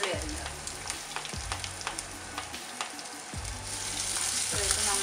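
Garlic, ginger and shallots fry in hot oil with a steady close sizzle, while a spoon stirs and scrapes the pan in several regular strokes, no talking over it.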